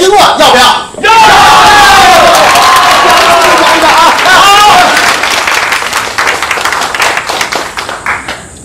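A dinner-party crowd yells and cheers loudly, egging two people on with whoops and clapping, the noisy roar staying strong before tapering into scattered calls and chatter.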